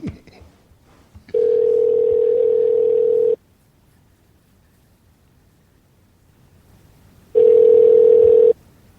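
A steady telephone line tone sounds during a call, loud and continuous for about two seconds, then silence, then the same tone again for about a second, with a faint voice at the start.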